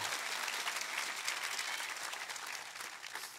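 A church congregation breaks into applause during a sermon, a dense, even wash of clapping heard from a distance, sustained without pause.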